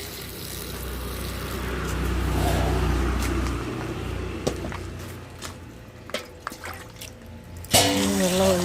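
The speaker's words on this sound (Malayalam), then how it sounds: "അപ്പം നമുക്ക് അരി നന്നായിട്ട് കഴുകാം" Water runs and sloshes steadily, then gives way to wet squishing and clicking as grains are swished by hand; a voice begins at the end.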